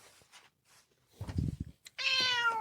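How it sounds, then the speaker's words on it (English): Domestic cat giving a drawn-out, tonal meow at close range after some soft rustling and a low thumping noise, the cry rising loud and holding to the end. "I know, cat. I'm taking you."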